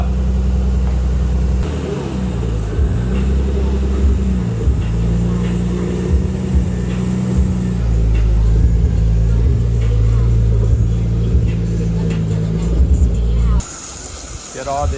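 A Nissan R34 Skyline engine rumbles nearby as the car is driven out, low idle and light revving with some shifting in pitch, loud and continuous, ending in a brief change near the end.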